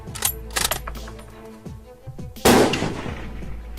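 A Kar98k sniper rifle goes off once with a loud, close blast that rings out and decays, following a stretch of clicks and handling noises.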